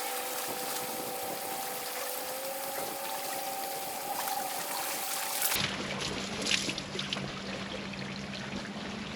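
Water pours and trickles steadily into a lake sprinkler pump at a lake in Wisconsin, a continuous close rushing flow that shifts tone partway through as the pump fills.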